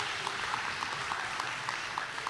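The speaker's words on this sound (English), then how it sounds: "Let's give the teachers a round of applause." Distant, faint audience applause for teachers at a school Heroes Day pep party, a soft continuous patter of clapping with small regular ticks standing out above it.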